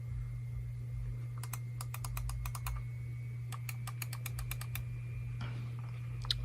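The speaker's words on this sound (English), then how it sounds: "They make a pretty noticeable click." The side buttons on a Logitech G305 gaming mouse are pressed repeatedly, giving bursts of crisp, close clicks in quick runs over a low electrical hum, with no speech.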